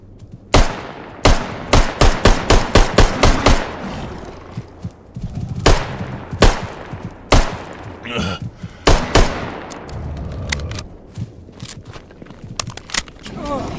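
Rapid bursts of gunfire aimed at a mutant in the video game Stalker GAMMA, loud, close shots in quick clusters with short pauses between volleys, someone talking over parts of it.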